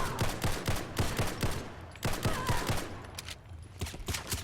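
A Beretta M9 pistol fires unsuppressed in Fallout 4 as a rapid string of sharp, loud gunshots in uneven bursts with short pauses, no talking.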